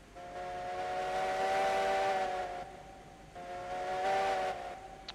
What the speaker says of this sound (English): whistle gets stuck.